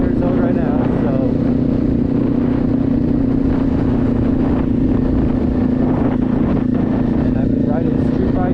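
A Kawasaki Z400 motorcycle ridden in high winds, with constant wind buffeting roaring over a steady engine hum, and a muffled voice mixed in underneath.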